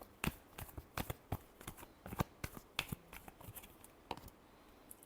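Tarot cards shuffled by hand in a quick run of crisp riffling flicks and taps, close and fairly quiet, with no talking.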